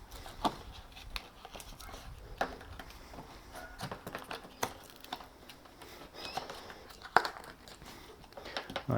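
Custom-cut pieces of cardboard are handled and crinkled under the bonnet of a Subaru Vortex during insulation matting work, with scattered rustling and soft crunching at close range.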